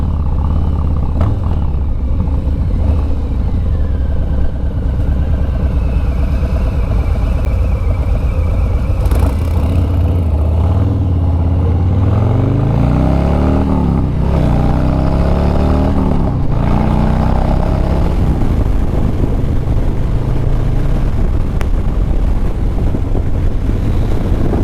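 A 2020 Harley-Davidson Low Rider S muscle cruiser rides along under steady wind buffeting, its engine a continuous low rumble that swells as it revs up midway, then settles back to a cruising drone.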